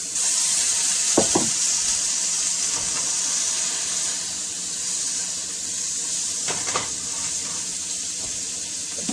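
Steady hiss of trout seasoned with salt and pepper frying in a pan, with a few brief clinks and taps of utensils; no one speaks.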